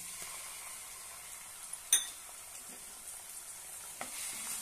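Chopped tomato sautéing in a tempering with curry leaves for split mung dal, a soft, steady sizzle with a sharp clink near the middle and a lighter tap toward the end, no talking.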